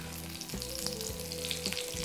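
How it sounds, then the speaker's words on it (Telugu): Tempering seeds and asafoetida crackle in hot oil for a pumpkin pulusu, a soft steady sizzle with a few faint pops, heard quietly and alone. "ఇంగువ, కొద్దిగా ఇంగు పోపు వేసుకుని"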